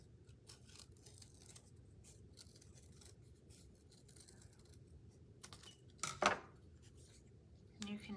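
Scissors snipping through folded paper ovals for a butterfly craft, with quiet rustling of paper and one or two crisp, louder cuts near the end, all close.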